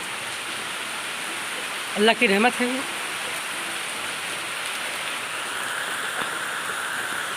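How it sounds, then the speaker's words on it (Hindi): Heavy rain falling at a home, a steady, dense hiss that fills the whole stretch, with a voice speaking briefly near the start. "मेरे घर आज की बारिश"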